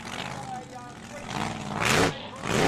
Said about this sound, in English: He just cracks that throttle, that supercharged engine out there.